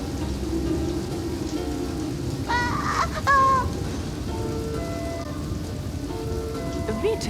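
Steady rain pours over a surface in a cartoon cooking-school scene, a dense continuous patter throughout, with a brief bird-like chirp and faint tonal sounds underneath; no speech.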